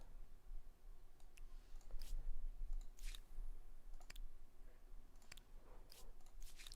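A pet rabbit gnaws on cardboard nearby, with soft irregular crunches and sharp clicky bites scattered quietly over a faint background.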